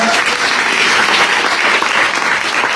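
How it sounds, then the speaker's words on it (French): Loud, dense applause from the audience at a cycling tour presentation in Guadeloupe honours the team, an unbroken wash of clapping from many hands. "je vais vous laisser encore une fois applaudir très très fort"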